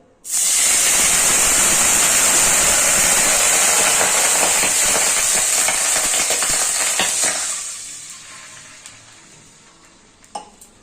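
Loud, steady sizzling and hissing as water hits hot ghee, bubbling fiercely for several seconds before gradually dying down.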